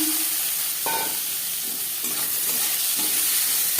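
Panch phoron seeds and torn bay leaves frying in hot oil, a steady close hiss and crackle with a few soft stirring knocks and no talking.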